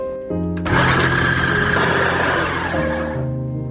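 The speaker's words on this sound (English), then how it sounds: "So we're going to start by blending up 3 tomatoes, 1 onion, ginger and garlic." A blender whirs loudly as it purees tomatoes, onion, ginger and garlic, starting with a rising motor spin-up and then settling into a steady, dense grinding roar for a few seconds without speech.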